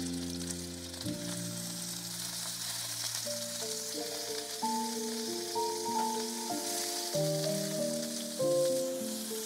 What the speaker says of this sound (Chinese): 把用牙签固定好的豆腐肉卷呢放进去煎炸